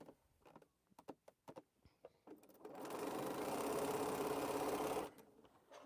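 Several clicks and handling taps come first, then a sewing machine stitching a quilt block runs in one steady, close burst of rapid whirring for about two seconds before stopping abruptly.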